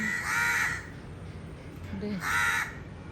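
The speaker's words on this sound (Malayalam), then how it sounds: "കാക്കകൾ വിളിക്കുന്നു." Two loud, close crow caws sound in quick succession at a home, each a harsh drawn-out call with a short pause between them.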